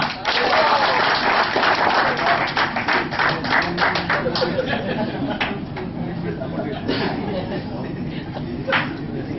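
A hall audience at a motivational event for Silver Jubilee Motors claps steadily to welcome a guest speaker. The dense, close clapping lasts the whole stretch, gradually thinning, with light crowd chatter mixed in.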